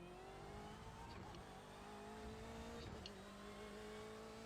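A Porsche race car engine in the iRacing video game drones steadily at high revs, with its pitch shifting slightly through gear changes, heard alone at moderate volume.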